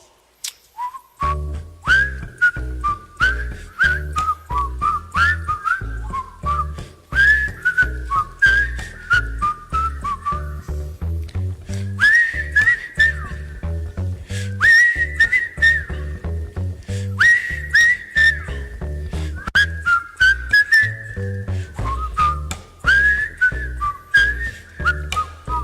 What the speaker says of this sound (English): If you know the words, whistle along